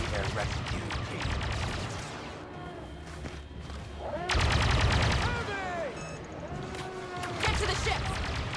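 Gunfire in Star Wars Battlefront 2, with rapid blaster-style bursts in clustered volleys, heavy thumps and footsteps. Voices shout under the shooting, which grows louder in the later bursts.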